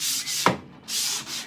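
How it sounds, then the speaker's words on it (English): An HDPE surface being scuffed by hand, with steady abrasive rubbing strokes that break off briefly midway before resuming, close and moderately loud, with no voices. "This surface that we're scuffing is the surface that will be in contact with the fiberglass"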